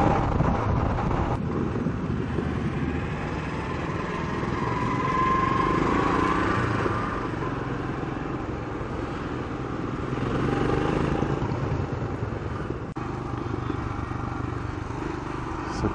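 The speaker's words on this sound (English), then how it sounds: "to this crazy traffic everywhere. And see how everybody is crossing and riding and driving" Traffic fills a busy Delhi street as a continuous wash of motorcycle and car engines, with wind buffeting the microphone and faint voices now and then.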